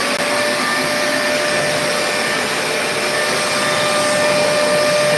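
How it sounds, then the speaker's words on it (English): A vacuum cleaner runs with its hose on the blower outlet, producing a loud, steady whine with a constant motor drone throughout and no voices. "this is connected to the blower side of things, and that is connected to the sucker side of things"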